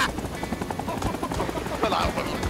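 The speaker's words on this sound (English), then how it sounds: "Wait, there's two helicopters!" Steady chopping rotor drone of a helicopter in Rising Storm 2: Vietnam with bursts of rapid gunfire layered over it, loud and continuous throughout.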